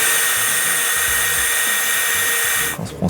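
An electric drill works on a car wiring connector, a loud, steady, high whirring drone that runs continuously for nearly three seconds before cutting off into faint handling noise.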